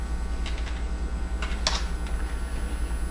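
A few soft clicks of keys being pressed on a computer keyboard during spreadsheet work, including Tab and Enter, sounding as scattered, light taps over a steady low hum, with no voices.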